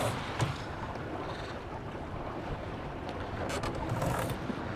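Strong, gusty wind buffets a heeling sailboat under sail, a loud continuous roar with water rushing along the hull and the rush rising and falling with the gusts.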